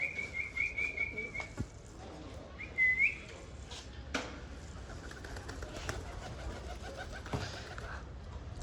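Pigeons perched nearby give soft calls, with a couple of whistling coo-like notes early on over a low outdoor background and scattered faint knocks.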